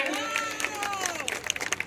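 Audience at a political rally for Maharashtra Chief Minister Devendra Fadnavis claps and cheers in a steady, crowded burst of noise lasting throughout, with scattered voices mixed in.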